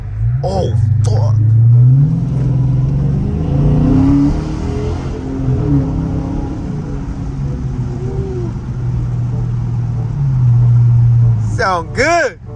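Dodge Challenger Scat Pack V8 rumbling and revving as it is driven, a deep, loud, close engine note that swells and eases, with people talking over it at the start and end.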